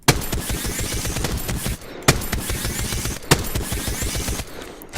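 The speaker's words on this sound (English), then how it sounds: "So if I let go of the trigger, even for a second, it goes back down to that slow rate of fire" Rapid automatic fire from an energy-ammo gun in Apex Legends, loud and close, in long dense bursts separated by brief pauses with a sharp crack opening each burst.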